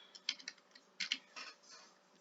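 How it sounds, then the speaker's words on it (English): A few quick bursts of keystrokes on a computer keyboard while entering text in Cricut Design Space, close and fairly soft, with short gaps between clusters and no voices. "So I'm just gonna add another line in and type in fatherhood"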